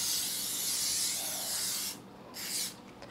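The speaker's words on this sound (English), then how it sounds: "And we're going to spray some olive oil" Olive oil spritzed from a spray bottle onto layers of phyllo dough for a pizza: a long continuous hiss for about two seconds, then a shorter second burst, close and clear with no talking.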